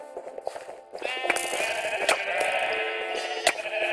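Sheep bleating in the Minecraft minigame Sheep Quest, several drawn-out wavering bleats overlapping into a loud, sustained chorus after a quieter clicky start, with sharp game clicks scattered throughout.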